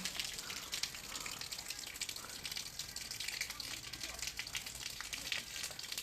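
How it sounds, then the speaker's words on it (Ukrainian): A small local waterfall in Liuboml pours with a steady, hissing rush of falling water. The noise is even and continuous throughout, at moderate loudness, with no clear voices over it. "а це, напевно, місцевий водоспад"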